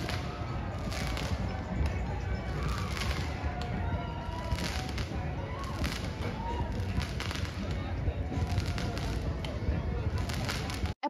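Firecrackers crackle and pop in dense, rapid bursts throughout a Vietnamese Lunar New Year street celebration, loud and continuous with little pause.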